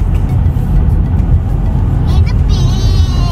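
Road traffic on a long drive to Midland, Ontario: a loud, steady low rumble of passing cars and engines, with a person talking over it.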